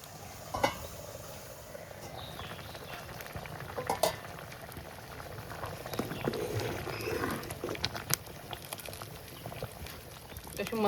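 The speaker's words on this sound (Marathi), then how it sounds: "गॅस कमी करा आणि 2 ते 3 मिनिटं पुन्हा डाळ छान शिजवून घेऊया" Dal bubbles softly in a pot over a low gas flame, a faint steady simmer with occasional clinks of a spoon against the vessel.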